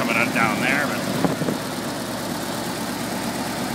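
A 1949 Ford flathead V8 with a leaky exhaust idles steadily, giving a continuous close rumble, with someone talking over it at the start.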